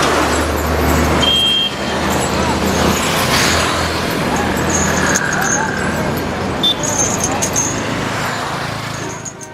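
Busy street traffic in Cochin, India, with cars, buses and trucks passing close by, making a steady loud roadway roar and engine drone, along with a few brief horn-like tones and faint crowd murmur mixed in.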